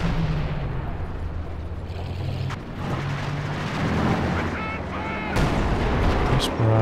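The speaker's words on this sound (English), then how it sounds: "This barrage, I'm not sure what it's going after there, though." Artillery barrage in a Company of Heroes 2 match: dull booms and blasts of shells landing, with sharp impacts near the middle and end over steady battle noise, heard under continuous commentary.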